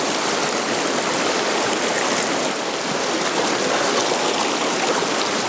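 A small river stream rushes steadily over rocks near a log-built little dam, a loud continuous wash of water with no voices.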